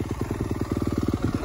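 A 2021 Yamaha YZ250F dirt bike engine putters nearby with a rapid, even low-pitched firing pulse, steady and close with no voices.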